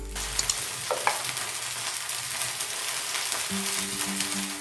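Rava dosa batter sizzling on a pan over a low flame, a soft steady crackle with a few light scrapes and clinks nearby, no speech.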